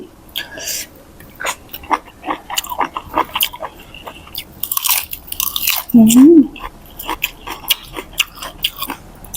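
Blanched squid is bitten and chewed up close with crisp, crunchy snaps in a quick irregular rhythm, punctuated by wet mouth sounds and a brief vocal hum partway through.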